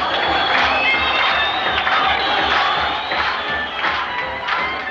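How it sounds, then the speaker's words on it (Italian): A large crowd cheers and shouts, with sustained whooping and clapping blending into a bright, continuous roar. "Forza ragazzi, un bel applauso per Ali!"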